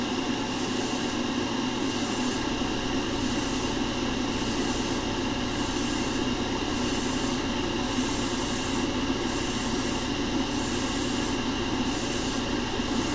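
Steady hiss of fluorescent yellow lacquer spray paint applied to spoons, with regular bursts of brighter spraying pulsing roughly every second over a constant background hum.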